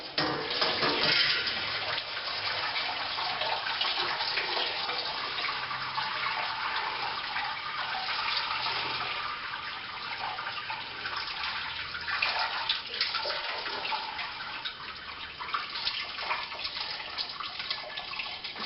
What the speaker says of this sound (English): just going to let a bit of the liquid run out of that